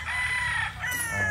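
A gamecock rooster of Streetcomb type crows at a game farm, a single loud, close, drawn-out call filling the short moment.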